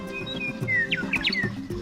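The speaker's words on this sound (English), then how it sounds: "A little bird has flown into the middle of the game, and now it's landed on the branch of Gerard Giraffe" A small bird chirping from a tree branch outdoors, a string of quick high tweets and warbling calls over a steady low background hum.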